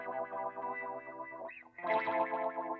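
Electric guitar through an auto wah effect in the AmpLion Pro amp plugin, with a sweeping, vowel-like filtered tone over a sustained chord, briefly dipping before a brighter, louder swell returns.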